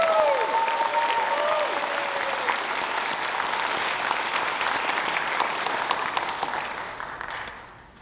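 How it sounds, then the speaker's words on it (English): Loud, sustained audience applause from a crowd at an anime convention panel, filling the room for several seconds before tapering off, with a few voices rising briefly at the start. "Let's give them a round of applause."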